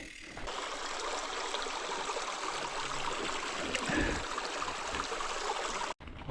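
A stream of water flows steadily along a gravel track in Dumfries and Galloway, Scotland, a continuous close rushing and trickling sound with no one speaking.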